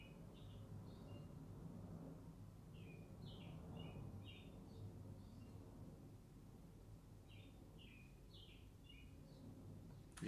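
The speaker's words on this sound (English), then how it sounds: "You hear those birds in the background?" Birds chirp outdoors in the background, short high tweets repeating in scattered bursts, fairly faint over a steady low ambient hum with no speech.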